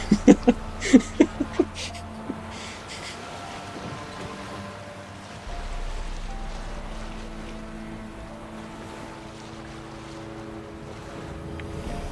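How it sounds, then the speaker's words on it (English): A motorboat in The Witcher 3 video game drones steadily across open water, a low continuous engine hum with wind and water wash, after a few brief clicks at the start. "Motorboat. Now we're ready to sail for the Horn."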